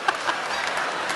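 Audience applause at a Jeff Foxworthy comedy show, a brief dense burst of clapping from a crowd, steady and fairly loud.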